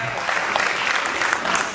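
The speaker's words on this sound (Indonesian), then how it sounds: "Beri tepuk tangan." Audience applause at a stand-up comedy show, a dense burst of clapping from a crowd filling the short moment, loud and close.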